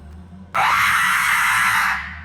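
A broadband scream bursts out suddenly in the video game Hogwarts Legacy, a loud single sustained cry lasting about a second and a half before fading, over a low ambient hum.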